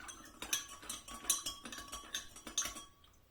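Tongs stir a chili mixture in a glass jar of fermenting vegetables, making a quick run of light clinks and scrapes, close and alone.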